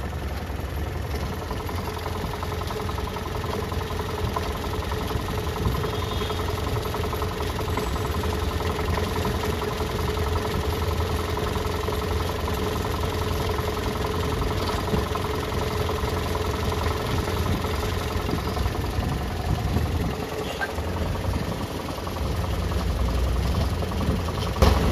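Boat engines idle steadily and evenly after repairs, a continuous low rumble with a faint mechanical ticking that holds at a constant level throughout, with no talk.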